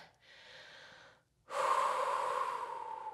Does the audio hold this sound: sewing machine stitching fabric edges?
no